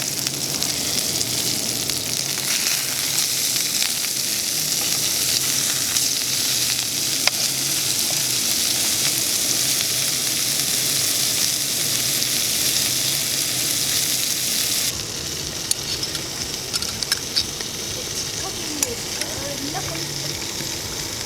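Burgers fry in one side of a Ridge Monkey Combi pan, a loud, steady crackling sizzle that fills the whole stretch, with occasional stirring scrapes and a slight drop in level partway through; a voice talks intermittently over it.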